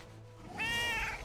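A fiery cat mount in World of Warcraft lets out a single drawn-out, harmonically rich meow over a low, steady game background.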